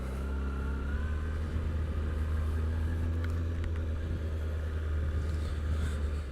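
A Kawasaki Ninja ZX-6R motorcycle engine idles high at around 2,000 RPM, a loud, steady, close rumble that holds even throughout, with no talk.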